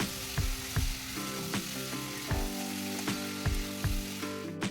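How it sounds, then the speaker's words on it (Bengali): Steady loud sizzling of red lentils frying in hot oil in a wok over medium heat, with repeated scraping strokes of a spatula against the pan. "খুব ভালো করে মুসুর ডালটা কষিয়ে নিচ্ছি"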